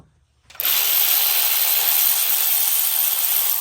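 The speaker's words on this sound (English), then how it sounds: "So now we have to loosen up these bolts right here." Bolts being loosened on a BMW 335d turbo with a power tool: after a short silence comes a loud, steady, high-pitched mechanical whir that holds for about three seconds, close up, with no talking.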